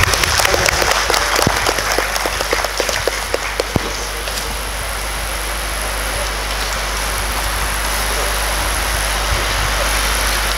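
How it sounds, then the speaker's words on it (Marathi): An audience at an award ceremony applauds for a few seconds with a dense patter of clapping, which then gives way to a steady hum and murmur of background noise. "टाळ्या सर."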